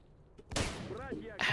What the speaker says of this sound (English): that relaxing sound of grenades exploding